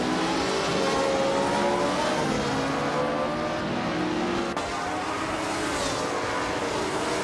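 Racing game audio of a 1964 Ferrari 158 race car, its engine holding a loud, continuous high-revving drone with slight pitch shifts throughout, no gaps.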